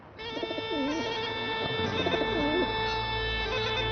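Pigeons cooing in two repeated rolling phrases against a steady tonal background hum, moderately close and fairly clear, with no talk.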